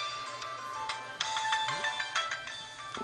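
Music from a Zuma-like ball-shooting puzzle game on a T-Mobile G1 Android phone, with an Asian-flavoured melody of bright plucked and chiming notes plus small effect sounds, steady and moderately loud with no talking.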